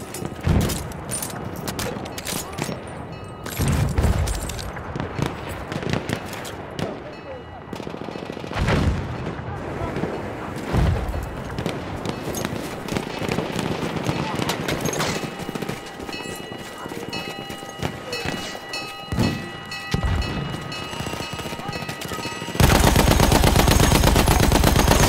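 Gunfire and heavy firing in a military shooter video game battle, with sharp repeated shots and bursts over a busy combat mix, ending in a loud sustained roar; voices talk through it.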